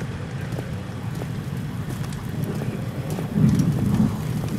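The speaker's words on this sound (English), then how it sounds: "Thunder." Rain and rumbling thunder in the horror video game Amnesia, a steady wash of rainfall with low rolling thunder that swells louder near the end.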